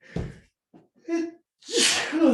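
A sharp intake of breath builds into a loud, explosive sneeze at the end, close to the microphone, preceded by a short voiced sound.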